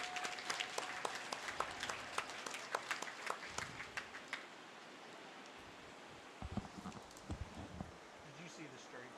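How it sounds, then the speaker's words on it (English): A crowd claps at a county fair cattle show, a loose spread of hand claps that thins partway through, then picks up again briefly before fading, all heard from the stands. "ladies a great round of applause."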